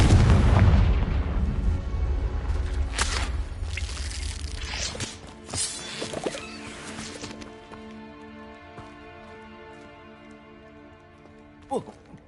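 A Confringo fire spell explodes in the video game Hogwarts Legacy, a loud booming blast at the start that rumbles and crackles, then fades into dripping debris and quieter game sounds, with a sharp hit near the end.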